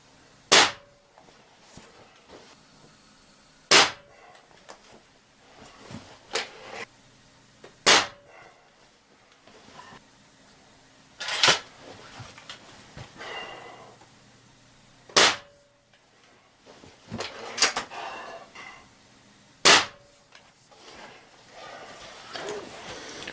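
Beeman Grizzly X2 air rifle firing Crosman Premier 14.3 grain pellets, five sharp, loud cracks spaced a few seconds apart, with faint handling noise between shots.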